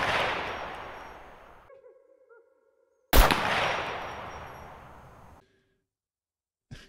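Two single sniper rifle shots ring out in the SCUM video game. Each is a loud crack with a long echoing tail, spaced about three seconds apart, with silence between them.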